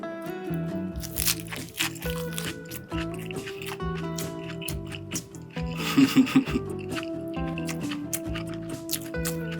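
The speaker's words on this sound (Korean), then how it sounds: "자 이번엔 상추랑 한번 먹어볼게요" Pork bulgogi wrapped in crunchy lettuce is chewed close up, with repeated wet crunching bites and soft smacking over about ten seconds, a louder burst of chewing midway, with no talking.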